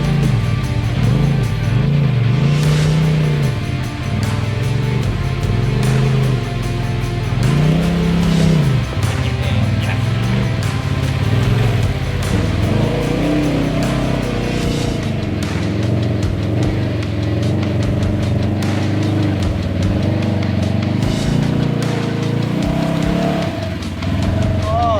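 4WD vehicles crawling through tree roots and mud bogs on a night forest run, with engines droning and rising and falling in pitch throughout, loud and close under muffled voices.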